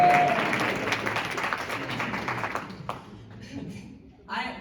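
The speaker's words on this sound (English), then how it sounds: "Clap for yourselves for me." Comedy show audience at Beth Judea in Long Grove applauding, a full burst of clapping that gradually thins and fades over a few seconds before a voice resumes at the end.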